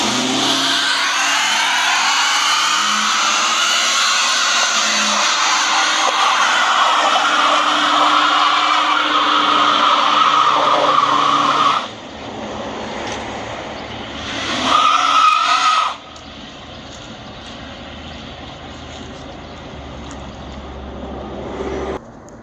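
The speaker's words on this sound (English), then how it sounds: "But first, let's do a little burnout." A 1969 Ford Grand Marquis doing a burnout, its engine roaring loud and steady with screeching tires for several seconds, then dropping off sharply, surging briefly again and cutting to a quieter idle.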